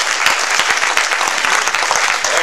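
Congregation applause at a church sermon, a loud, close, continuous wash of many people clapping with a quick, uneven patter throughout.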